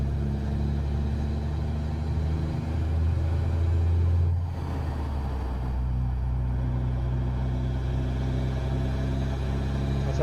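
A steady, low engine rumble from a Freightliner FLB truck in American Truck Simulator drones throughout, with a heavier throaty swell midway before settling back to an even idle-like hum.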